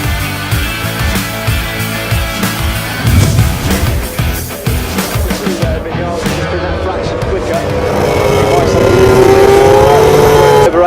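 Yamaha MotoGP racing motorcycle screaming around a circuit, its engine note rising and falling through gear changes and climbing steadily toward the end, loud beneath continuous excited race commentary.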